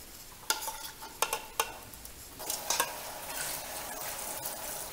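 An Australian salmon dish simmering in a pan, a continuous hiss and bubble punctuated by several sharp knocks and clatters of a utensil on the pan, close and fairly quiet.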